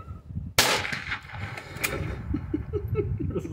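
A small children's replica Mosin Nagant rifle fires one sharp, loud crack followed by a ringing tail, then low voices and light laughter nearby.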